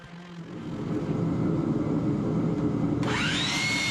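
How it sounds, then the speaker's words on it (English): A power sander runs on the face of a northern white cedar drawer front, a steady close motor hum with gritty rasping, and a higher whine rising near the end. "So after cutting to length, I sanded the face of the drawer front smooth."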